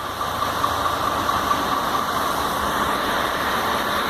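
An Iveco 480 truck engine with a reported engine noise idles steadily, a continuous loud low rumble with a constant mechanical hum and no pauses.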